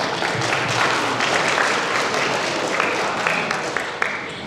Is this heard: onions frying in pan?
no